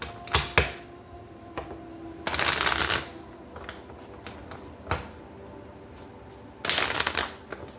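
Tarot cards shuffled on a table in bursts of riffling: a few quick snaps early, a long rush of card noise, scattered taps, then another burst near the end, close and fairly loud with no talking.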